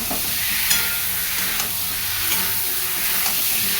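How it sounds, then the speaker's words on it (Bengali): Ginger, garlic, onion and tomato masala with green chilli and Kashmiri chilli powder sautéing in a pan, a dense continuous sizzle with periodic scraping stirs of a spatula, close and fairly loud. "আদা রসুন পেঁয়াজ টমেটো সব কষিয়ে নিয়েছি আর কাঁচা লঙ্কা দিয়েছি আর কালারের জন্য একটু কাশ্মীরি লঙ্কার গুঁড়ো দিয়েছি এই যে দিয়ে কষিয়ে নেব"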